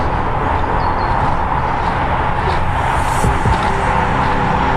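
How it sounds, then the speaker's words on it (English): Steady traffic roar from Eastern Way, a fast main road beside a Thamesmead towpath, heard as a continuous wash of passing vehicles at moderate distance with no pauses. "Sorry about the noise from the left, but we've got a main road there, Eastern Way"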